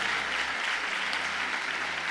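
Congregation clapping together in steady broadband applause at a Brazilian evangelical church service, sustained and fairly close, with no voices standing out over it.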